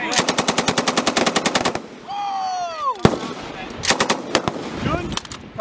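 Rapid bursts of gunfire during a joint military training exercise between French Foreign Legion soldiers and US Marines, a fast string of sharp shots followed by a ricochet-like whine and more scattered close shots.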